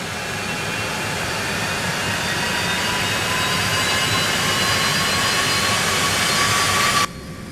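Steady, loud broadband roar of a Citation X jet engine in the X-Plane flight simulator, holding constant with a faint whine above it, then dropping sharply in level near the end.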